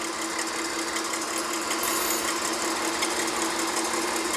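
Electric hand mixer whipping egg whites with sugar to stiff, glossy peaks for chocolate soufflés, a steady high-pitched motor whine with a constant buzzing rattle, close and uninterrupted for several seconds.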